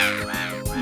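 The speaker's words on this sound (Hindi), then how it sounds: "लेकिन ये कौवे लोग इतना शोर क्यों करते हैं?" A crow's caw in a Hindi robot cartoon, one short harsh call, loud and close, heard alone.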